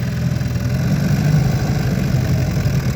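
A vintage 1939 Mercury outboard motor runs steadily with the throttle raised, giving a continuous, loud, close mechanical drone with a fast rhythmic chop and no pauses.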